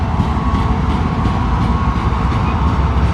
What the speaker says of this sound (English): look what's coming. The aforementioned train.